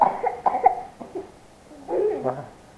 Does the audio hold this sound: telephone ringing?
no